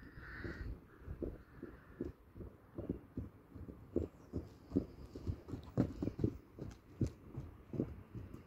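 Harry, a horse ridden in an adult novice equitation class, walks at a steady pace, his soft muffled hoofbeats thudding in an even rhythm from a little way off, with faint background noise and no talk.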